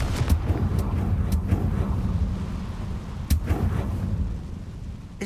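Confringo fire blast spells in Hogwarts Legacy, several sharp cracking bursts spread through the stretch over a steady rumbling game background, with no talk.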